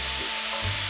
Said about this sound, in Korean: 이제 대파 넣고 볶아줍니다.